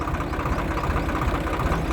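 A tractor engine chugs steadily while harvesting a pearl millet field, its low rumble close and even across a short stretch with no talking.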